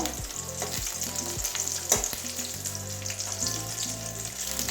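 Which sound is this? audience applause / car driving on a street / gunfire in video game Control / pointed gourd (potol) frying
pointed gourd (potol) frying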